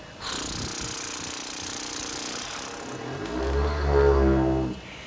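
A didgeridoo droned by flapping the lips into the mouthpiece, starting as a steady buzzing hum that deepens into a louder, lower, resonant drone near the end, with no talking.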